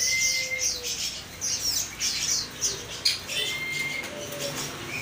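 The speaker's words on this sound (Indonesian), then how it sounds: "ini burung di kios burung Hailala" Many birds chirp and squawk together at a bird market stall in a busy chorus of short, bright calls, with a few whistled notes standing out, fairly close and continuous.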